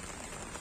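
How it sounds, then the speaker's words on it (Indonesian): Steady rain falling at night on a fishing trip near Paloh along a shipping lane at Port Klang, Selangor, a faint, even hiss with no other sounds, brief. "cuaca malam agak kurang baik. Hujan."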